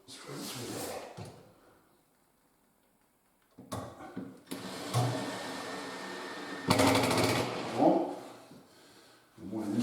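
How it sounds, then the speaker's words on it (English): A power screwdriver drives screws through the side of a gloss grey handleless kitchen cabinet during UK kitchen fitting, heard as several short close whirring bursts separated by a silent pause and some handling clatter. "Just got to put these two screws in the side here."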